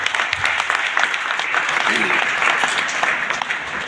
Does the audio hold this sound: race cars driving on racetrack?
no